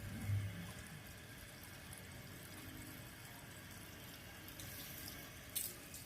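Tap water runs in a steady, faint stream as a hunting dog is bathed during hot weather, with a soft thump near the start and a brief splashy burst near the end.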